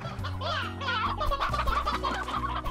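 Chickens clucking in the video game Slime Rancher, a loud, close, continuous flurry of overlapping clucks and squawks, heard alone without talk.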